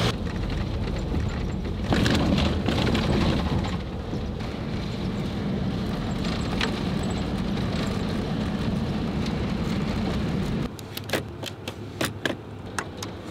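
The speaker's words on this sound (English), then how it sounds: "it is pouring rain outside" Heavy rain pours steadily on a camper van in Iceland, a dense close wash of noise with a few sharper taps and knocks toward the end.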